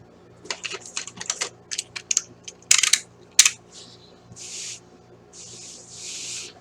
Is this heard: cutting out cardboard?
yes